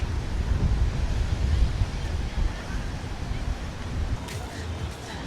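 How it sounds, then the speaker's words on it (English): Strong wind gusts buffet the microphone on Playa de Palma beach in Mallorca, a loud, continuous low roar mixed with breaking surf throughout. "it is very, very windy"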